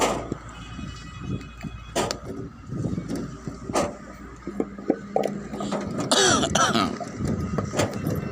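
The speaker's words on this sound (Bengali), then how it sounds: "কাশি হয়েছে।" A person with a sore throat coughing and clearing the throat several times in short bursts, close by, with background noise between the coughs.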